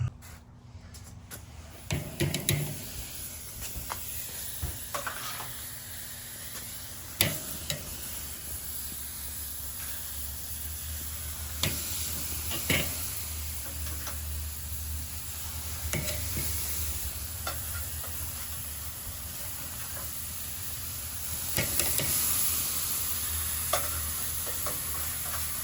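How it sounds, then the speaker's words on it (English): Six Angus burger patties sizzle on a hot charcoal grill, a soft continuous hiss broken by occasional clanks and scrapes of tools, fairly quiet and close with no talking. "so 6 Angus burgers on the grill"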